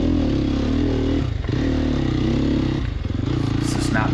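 Sherco 300 SEF motorcycle engine running steadily on a country ride, a close continuous drone with brief dips in pitch, under a voice talking.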